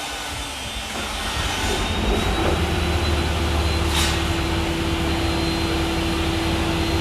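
An SK125SR machine's engine starts up, a brief crank rising into a loud, steady running drone with a constant hum, heard close with no talk.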